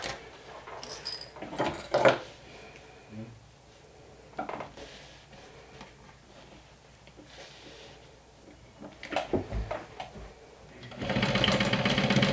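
Sewing machine stitching the sides of a saddle crossbody bag, short intermittent stitching bursts with handling clatter between them and a louder steady run at the end, close and fairly quiet.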